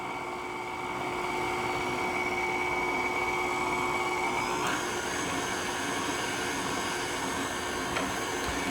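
Electric mixer running on slow, beating eggs for a lime cake made from a box mix: a continuous, even motor whine with a steady hum, close and unbroken throughout.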